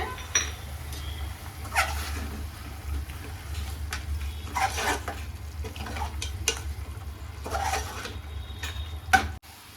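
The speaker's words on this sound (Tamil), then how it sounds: "இந்த மசாலாவில் ஃப்ரை ஆகட்டுங்க." Quail pieces fry in pepper masala in a pan and are stirred, a low steady sizzle broken by scraping spoon strokes and light metallic clinks at irregular intervals, fairly quiet, with no talk.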